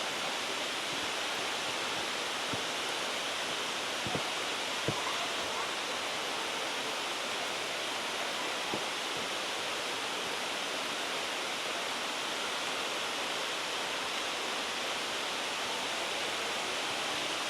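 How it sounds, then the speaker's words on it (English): A steady, dense roar of falling water at Issaqueena Falls in Walhalla, South Carolina fills the whole stretch, constant and loud, with a few faint clicks but no talking. "And there is the waterfall."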